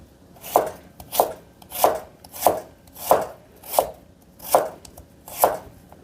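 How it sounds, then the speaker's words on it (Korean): A knife slices ingredients for squid salad on a cutting board in an even, unhurried rhythm of about eight crisp chops, each a sharp close thud with a brief slicing hiss, with no voices. "3등분을 해서 납작납작하게 그냥 썰어 주시는 거예요"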